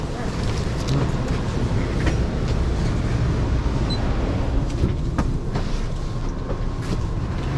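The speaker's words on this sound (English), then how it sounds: "We end up pulling into Chicago's Union Station around half an hour late at 20 past 10" An Amtrak Viewliner II train pulls into Chicago Union Station, giving a steady, dense rumble and rattle of rolling rail cars with faint squeals and clanks throughout.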